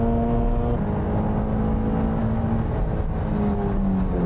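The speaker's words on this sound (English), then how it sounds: "it's going to be an acceleration contest. The Z is rocketing out of the corner." A Nissan Z race car with a 3.5-liter engine accelerates hard out of a corner on a track, its engine note holding a steady rising whine and hum at moderate distance.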